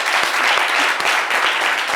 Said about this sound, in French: Applaudissez Marie-Claude, s'il vous plaît